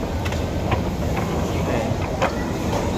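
A train rumbles at a station with a steady rolling rail roar and a few faint clicks, while people talk over it.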